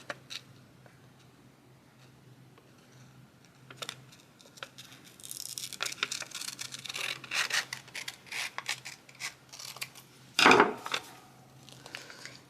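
Paper being cut with scissors for a handmade junk journal, with scattered snips and rustling crinkles that build in the middle, then one louder sharp cut near the end; no talking.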